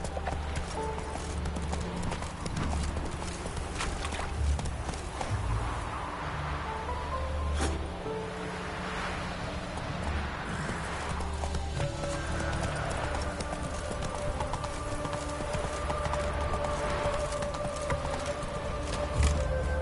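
Video game horse Roach galloping, with a quick, steady clip-clop of hooves running throughout at moderate loudness over a continuous low background rumble.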